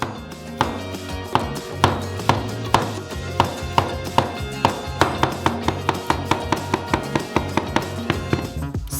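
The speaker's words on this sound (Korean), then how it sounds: "바나나 3개의 껍질을 벗기고 잘게 썰어주세요." A knife finely chops three peeled bananas on a board, with soft, close taps that start sparse and quicken into a rapid, regular patter over a continuous tonal background.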